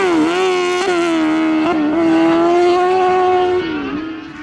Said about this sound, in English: really extracting every ounce of horsepower from that 600cc Kazmat